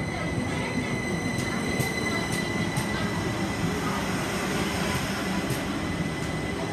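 A Southern class 377 electric train rolls into Balham station with a steady rumble and wheel noise, high squeals and rhythmic clicks over the rails running throughout at close range.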